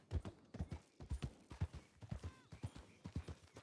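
Horses in the Western role-play game Red Dead Redemption trotting with a brisk, regular clip-clop of hooves, fairly close and clear, with a brief whinny partway through.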